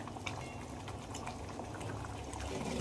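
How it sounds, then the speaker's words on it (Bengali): Chital fish curry gravy boiling hard in a pan, a close, dense bubbling burble that holds steady and swells slightly toward the end. "আমার ঝোল কিন্তু একদম ফুটে গেছে"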